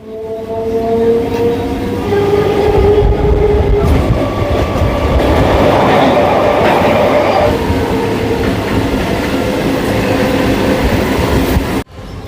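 A local train from the Ranaghat line rolls toward Dum Dum station, with steady loud rumble and rhythmic clatter of wheels over rail joints, broken by tonal squeals, holding nearly constant for twelve seconds before a brief dip near the end.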